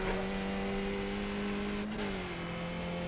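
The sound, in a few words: race car engine in iRacing video game, Skip Barber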